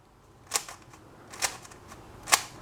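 A GAN 356 M Lite speed cube is turned, giving three sharp, separate clicks at about one-second intervals over a faint quiet background.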